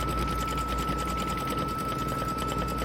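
An embroidery sewing machine stitches out a design with a steady, fast mechanical whir and rapid needle rhythm, constant and close throughout.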